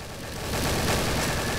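Gunfire in the video game Garry's Mod forms a dense, continuous roar of overlapping shots that swells louder after the first half-second and stays heavy without a break.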